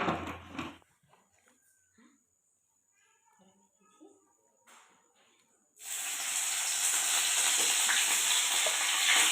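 Garlic, onion and green chili hit hot oil in a kadai, starting a loud, steady sizzle and hiss after quiet kitchen sounds and a brief voice.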